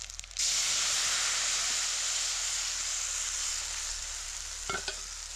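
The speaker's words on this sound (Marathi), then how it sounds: "लगेच टाकायचं आहे आपलं ताक" Buttermilk poured into a hot pan already holding chili powder, bursting into a loud, steady hiss and sizzle that holds close and strong throughout, with a faint clink near the end.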